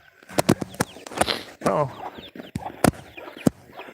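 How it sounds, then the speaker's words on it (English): Chickens cluck noisily on a woodland walk, a run of close, loud, choppy calls with short squawks, while a person speaks briefly over them. "You are a noisy little bird."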